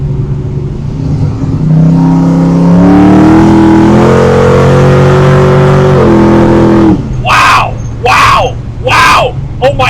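A 1968 Camaro Pro-Street drops a gear and accelerates hard, its loud engine note climbing in pitch over several seconds and then easing off, followed by a few short bursts that sound like shouts.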